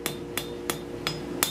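Five evenly spaced hammer blows ring out on a forged steel leaf scroll as a bevel is cleaned up, each sharp metallic strike close and fairly loud with a brief ring, no talking.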